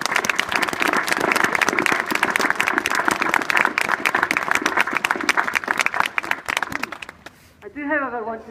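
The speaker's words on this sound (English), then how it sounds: "So I think that's an extra round of applause for every single one of you on the parade square today." A crowd on the parade square gives a sustained round of applause at a police passing out parade: dense, loud clapping runs steadily for about seven seconds, then fades away as a voice starts speaking.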